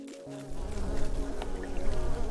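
Wasps buzz in a dungeon-crawling video game, a steady droning hum that rises after a short quiet start and holds close and fairly loud throughout.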